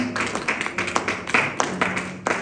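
A church congregation claps in acclaim of the Lord, a fairly close burst of uneven, overlapping handclaps that rises and falls over a couple of seconds.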